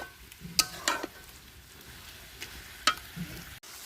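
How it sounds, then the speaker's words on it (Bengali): Meat cooking down with onion and spices in a pan outdoors, a faint low sizzle under a few sharp scrapes and clinks of a spoon stirring. "সে পেঁয়াজ মশলা সব কিছু হচ্ছে কষায় হচ্ছে গোস্তটা দিয়েছি"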